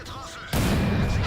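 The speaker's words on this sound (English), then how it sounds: "I took another round from artillery" An artillery shell strikes the player's tank in World of Tanks, a sudden loud blast that cuts in halfway and rumbles on, heavy and close.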